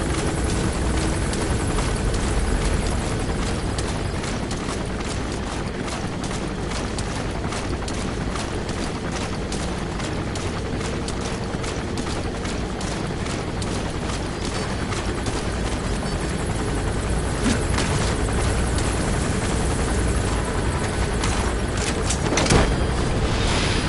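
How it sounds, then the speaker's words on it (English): Enemy gunship helicopter in Metal Gear Solid 5 thunders steadily and loudly overhead, its dense rotor chop continuous for the whole stretch with a sharp thump near the end. "That's an enemy gunship."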